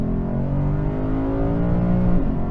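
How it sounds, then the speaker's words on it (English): A Lexus IS 500 V8 engine gives a steady, loud drone with a deep rumble and a throaty intake roar, holding fairly constant, close by. "Lots of engine noise, lots of induction noise here from this V8."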